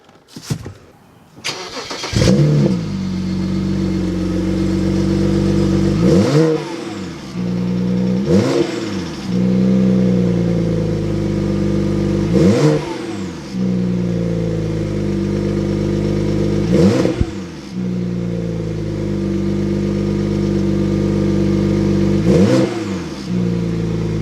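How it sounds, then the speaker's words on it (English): A BMW N54 335i turbocharged engine revs repeatedly in loud bursts, each rising and falling, with a deep exhaust rumble and steady idle between revs; no talking. "let's check out the exhaust and see how it sounds."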